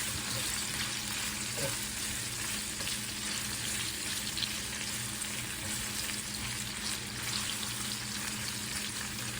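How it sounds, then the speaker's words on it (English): Onions sauteing in oil in a pan while cooking Panamanian-style salt fish and yuca, giving a steady, continuous sizzle and fry hiss close by that holds even and unbroken throughout. "So we want to really saute these onions."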